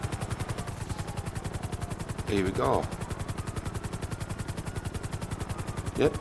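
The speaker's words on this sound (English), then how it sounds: "Just watch minimap for choppers spawning right in front here" Up close, a GTA 5 Online helicopter beats out a rapid, steady rotor chop that runs the whole way through, loud and even, with someone briefly speaking over it and a couple of short whooshing sweeps.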